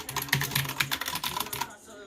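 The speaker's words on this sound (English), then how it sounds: "The keyboard is using some variant of Cherry MX Blues. See if you can hear this." Rapid, close clicky typing on an Aula SI-2018 mechanical keyboard with Cherry MX Blue-type switches, a dense run of sharp keystrokes that stops abruptly near the end.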